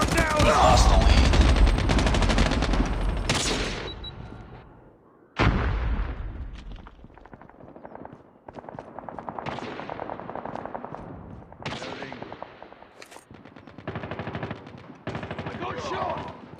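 Rapid bursts of automatic gunfire from a mobile shooter game played on a Realme C11 phone, loud and dense at first, then sharp intermittent shots and volleys with pauses between them.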